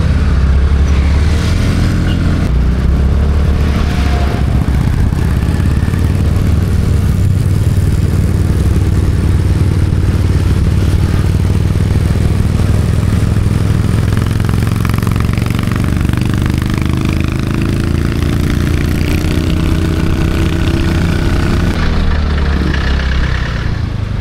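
A motorcycle engine runs steadily and close by for more than twenty seconds while the bike is moved back and forth, a deep, loud rumble with clattering, and the pitch rises and falls slightly.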